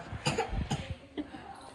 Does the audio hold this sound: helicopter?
no